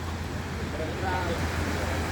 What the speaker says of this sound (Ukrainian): Море, звичайно, трошки бушує